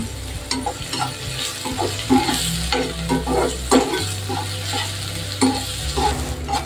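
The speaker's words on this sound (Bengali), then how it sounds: "বেরেস্তাটা তো আমার একদম হয়ে গেছে, ভাজা হয়ে গেছে" Sliced onions for mutton biryani beresta fry crisp in hot oil, a loud continuous sizzle broken by repeated spatula stirs and scrapes against the pan, with no voices.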